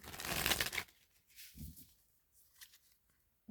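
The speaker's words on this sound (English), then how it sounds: "So I'm just gonna shuffle very quick" A deck of cards shuffled quickly makes a dense, close riffling burst for under a second, followed by a few softer rustles and handling sounds in a quiet room.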